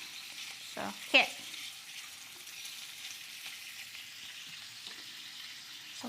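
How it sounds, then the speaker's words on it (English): Shrimp frying in a pan for a Spanish seafood gazpacho, giving a steady, quiet broadband sizzle that runs throughout, with a couple of brief clatters early on. "I'm just gonna show you here how we cook our shrimp"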